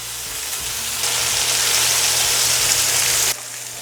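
Half a stick of butter hits a hot pan and sizzles in a loud, steady hiss that swells after a second and cuts off sharply near the end, with no voices.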